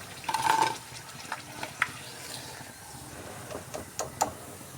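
Homemade potato snack made from raw potatoes frying in hot oil, a steady close sizzle with scattered stirring clinks and scrapes, no voices.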